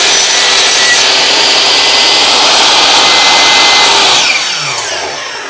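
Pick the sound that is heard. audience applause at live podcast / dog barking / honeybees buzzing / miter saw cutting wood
miter saw cutting wood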